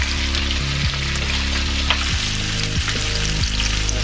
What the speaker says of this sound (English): I'm gonna be adding the plantains directly to the same cooking oil as the fish to give it its last minute of cooking.